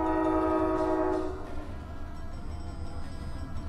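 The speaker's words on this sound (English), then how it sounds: "And of course, here comes a train." A train horn blasts loud and steady for over a second, then fades into the rumbling clatter of the passing train, with no talk.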